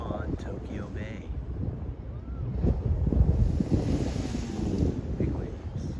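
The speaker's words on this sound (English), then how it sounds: "Big waves." Waves on Tokyo Bay at Yamashita Park in Yokohama wash and splash against the shore in a steady rolling surge, mixed with wind buffeting the microphone and a faint voice in the background.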